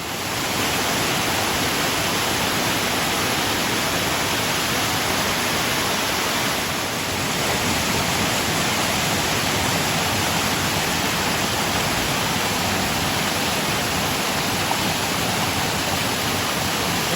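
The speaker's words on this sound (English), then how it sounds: "See where the waterfall drops off there." A steady, powerful rush of falling water roars without pause, dense and broadband like a nearby waterfall in the Goat Rocks Wilderness, with no voices.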